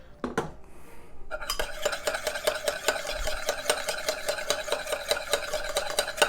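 Extra virgin olive oil whisked into a mustard, mint and caper dressing for Sicilian tuna carpaccio, rapid rhythmic metal utensil scraping and clinking against a bowl, close and continuous after a couple of opening taps.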